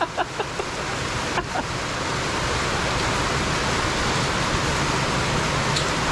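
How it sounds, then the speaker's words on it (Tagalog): Heavy rain hisses in a dense, unbroken wash of noise, with a few sharp taps at the start, steady and close throughout. "lakas ng ulan."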